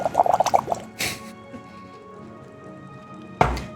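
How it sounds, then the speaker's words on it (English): Water being drunk at close range, with a couple of short, wet gulping bursts separated by a quiet pause, after a brief murmured vocal sound at the start. "Drinking my water."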